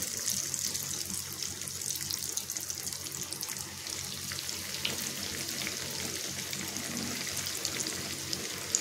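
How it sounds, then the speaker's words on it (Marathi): Crumb-coated potato and pea rolls frying over a medium flame in hot oil in a wok, a soft, steady, bubbling sizzle that runs evenly throughout with no voices. "तर त्याच्यामध्ये आपण ब्रेड क्रम्ब जे बनवलेले आहेत, लावून आपले रोल तयार केलेले आहेत ते सोडून तळून घ्यायचे आहेत"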